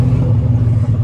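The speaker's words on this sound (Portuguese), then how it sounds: "O cliente pediu muito pipoco," A remapped VW Golf 1.4 TSI engine revs loudly up close, its deep steady drone thick with low rumble, though no distinct exhaust pops stand out in this short burst.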